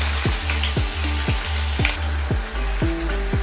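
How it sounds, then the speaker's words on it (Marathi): Finely chopped onion frying in oil with curry leaves for potato curry, a loud continuous sizzle with regular rhythmic scraping strokes of a spatula against the pan, close by and uninterrupted by talk. "कांदा आपल्याला हलकासा गुलाबी होईपर्यंत छान आपल्याला परतून घ्यायचा आहे।"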